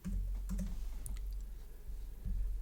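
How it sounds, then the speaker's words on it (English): Keystrokes on a computer keyboard while a value is entered into a spreadsheet filter box: a few soft, close clicks in small bursts with a short pause between them, over a low steady hum. "So where it says value or formula, I will type"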